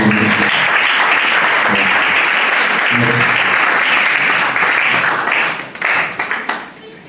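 A crowd at a church gathering claps loudly and steadily with cheering voices mixed in, then the applause breaks into a few last scattered claps.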